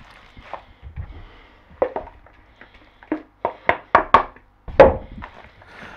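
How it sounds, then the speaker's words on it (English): Christmas pudding batter with boozy dried fruits being stirred and folded by hand, heard as close, irregular thumps and knocks of a spoon against the bowl, quickening into a run of louder strokes toward the end. "give it a good mixing, just so there's no pockets left"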